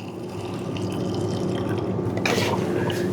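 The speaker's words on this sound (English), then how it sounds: "Bring it up to full, which is 100 milliliters." Water sample pours into a 100-millilitre flask in a quiet lab, a soft continuous trickle and gurgle with a brighter splash near the end.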